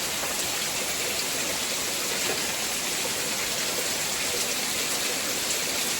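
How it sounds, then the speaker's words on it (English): Water pours down steadily at a frozen waterfall with ice and icicles at Buttermilk Falls, New Florence, Pennsylvania, making a close, continuous rushing and splashing hiss with no voices. "But the water is really coming down here."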